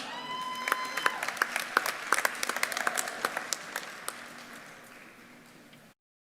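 Commencement audience applauds graduates, a dense burst of clapping with sharp individual claps on top, gradually thinning and fading out before the end.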